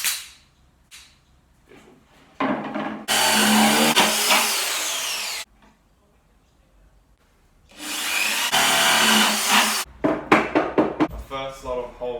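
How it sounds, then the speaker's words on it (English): A power drill whines in two bursts of a few seconds each, drilling holes in a skateboard deck, separated by quiet, with some clattering and handling noises afterward. "just about to put my drill holes into my last deck"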